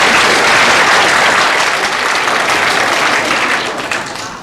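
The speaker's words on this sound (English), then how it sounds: "we would like to give those 6 people a special round of applause" Audience applause for the piano player at the closing night of a school production of Bye Bye Birdie, a dense, steady round of clapping from a full house that gradually thins and fades toward the end.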